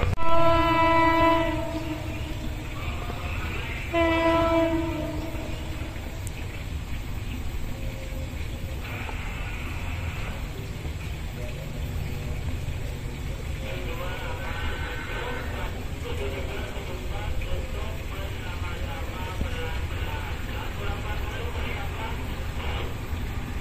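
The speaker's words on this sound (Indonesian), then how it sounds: "kita tunggu kereta api Tawang Alun masuk stasiun Ranoyoso." The Tawang Alun passenger train pulls into Ranuyoso station with two loud horn blasts, then a steady rumble and clatter of wagons, with further fainter horn sounds mixed in.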